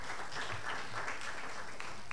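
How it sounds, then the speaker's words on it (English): Faint, distant applause from a conference session audience, a soft continuous patter of clapping at low level without clear individual claps. "Another round of applause for Dr."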